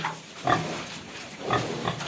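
Grunts from a domestic pig in a farm pen during disinfection: two short, close grunts about a second apart over a quiet background.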